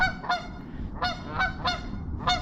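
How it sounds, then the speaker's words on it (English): Two geese on the Columbia River honk loudly in repeated nasal calls, about five spaced honks close by, over a low background rumble. "they're swimming this way while honking very loudly"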